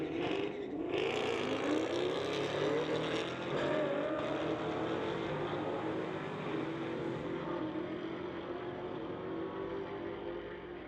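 Street-legal drag race between a 2021 Camaro and a 2014 Mustang, engines roaring loud and sustained as the cars launch and run down the strip, a steady high-powered drone that slowly fades toward the end.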